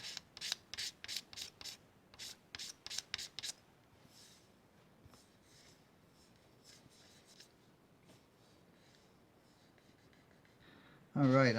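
Dry sandpaper rubbing over cured resin on a Harley Benton guitar body, a run of quick rhythmic strokes up close, then fainter scattered scuffing and a brief loud handling noise at the end.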